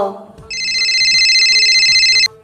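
A phone rings with an incoming call, a loud steady electronic ringtone lasting about two seconds after brief talk, then cutting off abruptly.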